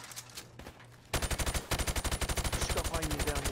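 Rapid automatic gunfire from a weapon fired from the hip in a video game: a quieter burst first, then a loud, sustained stream of evenly spaced shots close up.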